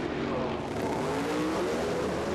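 A Pro Mod drag racing car at a 2016 British Drag Racing Championship round spins its tyres off the start line, a loud, continuous engine roar that rises in pitch across the short burst, with a commentator talking beneath it.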